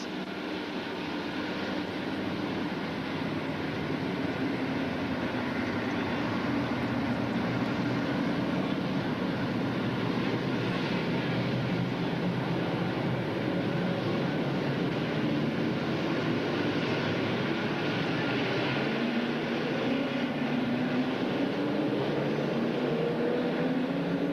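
Pro stock race cars circle an oval track during a 1989 Ascot main event, a dense, continuous engine roar holding steady and loud throughout without any voices.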